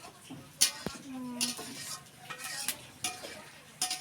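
Someone stirs and sautés food in a pan before prawns go in, with scattered metallic clinks of a spoon against the pan and soft scraping in a quiet kitchen.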